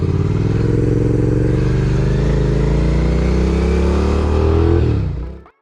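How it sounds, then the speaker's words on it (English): A motorcycle pulls away from a stop in first gear, its engine rumbling loud and close with a rising pitch as it accelerates, then fading quickly as it leaves. "I can slowly let out the clutch, give a little bit of gas, and I can actually get going"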